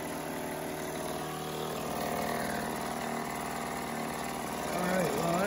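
A 1967 Mercury 3.9 hp outboard motor idles steadily with the choke fully off, giving an even, close mechanical drone that swells slightly at the end.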